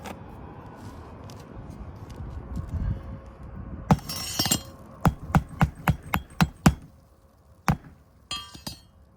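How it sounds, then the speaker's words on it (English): A magnetic hammer drives roofing nails into shingles in a quick series of sharp, ringing blows, with a few louder whacks before a steady run and a short pause between. "this is a magnetic hammer, so you want your first drive to be a little forceful"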